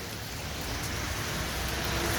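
Rain pours during a bike nature trip, a dense, continuous hiss of drops on surfaces that stays steady and fairly loud throughout, with no talking.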